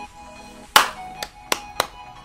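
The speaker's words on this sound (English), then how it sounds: "I hope that clap wasn't so loud" A single loud, sharp hand clap rings out close by, followed by three lighter taps, while someone plays Rocket League.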